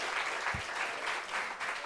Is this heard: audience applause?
yes